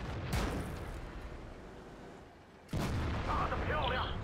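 Two heavy tank cannon shots in the World of Tanks video game, each a sharp boom with a rumbling tail. The second lands more abruptly and is followed by mechanical clatter.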